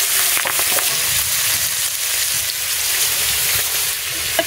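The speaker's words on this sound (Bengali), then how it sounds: "নুন হলুদ দিয়ে একটু নাড়িয়ে চাড়িয়ে এবার আমি তেলের উপরে দিয়ে দিলাম।" Shrimp coated with salt and turmeric fry in hot oil with a steady, close sizzle throughout. Occasional stirring scrapes sound over it, and no one talks.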